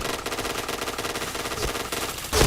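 Rapid automatic gunfire from a video game shooter, a dense continuous burst of shots running the whole stretch and ending in a louder blast near the end, with no talk.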